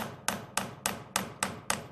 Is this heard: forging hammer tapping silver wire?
yes